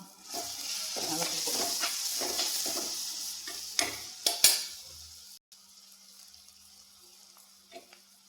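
Sliced onions frying with chili powder in a pan for a chicken curry, a steady sizzle with scraping stirs and clatters that fade into a quieter hiss near the end.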